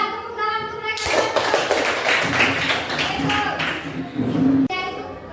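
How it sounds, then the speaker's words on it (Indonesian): Classroom audience applause bursts in abruptly, a lively ragged clapping by a group that swells, then cuts off near the end, with voices talking before and after. "Iya, tepuk tangan untuk mereka."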